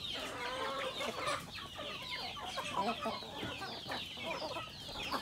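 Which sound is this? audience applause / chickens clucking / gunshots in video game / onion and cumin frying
chickens clucking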